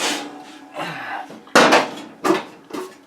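A metal roasting pan is handled up close on a kitchen counter: a series of loud clanks and knocks with a scraping rattle, several separate hits spread unevenly over a few seconds.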